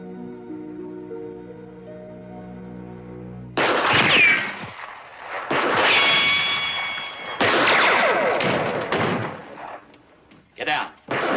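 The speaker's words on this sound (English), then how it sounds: "Gunfire. Oh, yeah, close. The gunshot, I heard it." Gunfire in a 1957 western film follows a sustained musical chord: several loud, sharp shots and bangs come in close succession, some with ringing tails, and actors speak between them.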